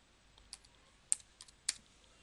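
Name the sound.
typing on a computer keyboard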